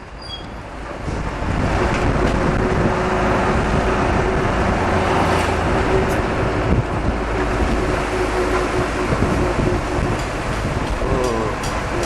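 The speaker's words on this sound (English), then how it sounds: "Well, there you go, just started to rain." Rain falls on a moving bus in Phuket, heard from inside as a steady, dense hiss and patter over a low engine rumble that swells after the first second and holds loud throughout.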